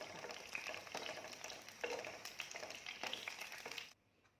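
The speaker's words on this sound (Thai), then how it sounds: "เราจะมาทอดเห็ดหอมต่อนะคะ" Shiitake mushrooms fry in a large amount of hot oil, giving a loud, steady crackling sizzle with small bursts of spatter, close by and without talk, until the sound cuts off near the end.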